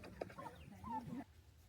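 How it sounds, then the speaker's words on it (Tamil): A blind chicken in a village yard makes soft clucks and throaty sounds while swallowing food, a few short close calls before falling quiet. "கோழி குருடா இருந்தாலும் எப்படி முழுங்குது பார்த்தீங்களா."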